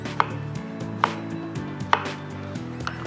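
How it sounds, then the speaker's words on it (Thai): Three or four sharp knife chops through potatoes on a cutting board, evenly spaced about a second apart, close up over a low background hum. "มันฝรั่งเนี่ยหั่นให้มันเล็กกว่าแบบไก่เรานิดนึง"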